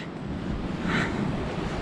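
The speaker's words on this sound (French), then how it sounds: "Il va y avoir des belles vagues." Ocean waves surge at high tide along the Brittany coast after a storm, a continuous loud wash of surf mixed with wind buffeting the microphone.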